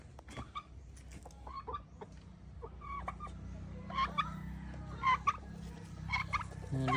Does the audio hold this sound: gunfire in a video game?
no